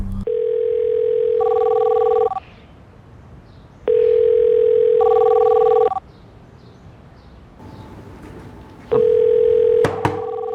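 Unanswered call to a mother's mobile phone: a steady ringback tone sounds in three long bursts separated by pauses, each burst with a brief higher double tone partway through, loud and alone with no talk.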